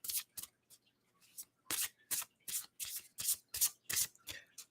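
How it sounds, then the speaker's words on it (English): Oracle cards being shuffled by hand in a quick run of crisp riffling bursts, close and fairly quiet, with no talking. "They have a great shuffle quality."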